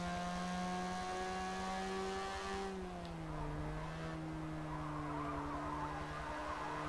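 Mazda RX-3 with a rotary engine driven in a racing video game, its buzzing engine note holding high, then dropping as it shifts, with tire squeal mixed in, moderately quiet and with no talking.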